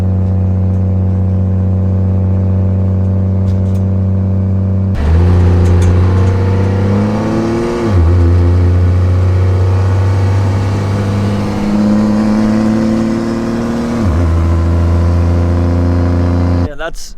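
A 2000 hp Cummins diesel in an OBS truck cruises with a loud, steady low drone heard from inside the cab, its pitch rising and dropping with several gear shifts and throttle changes.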